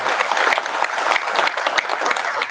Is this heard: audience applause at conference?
yes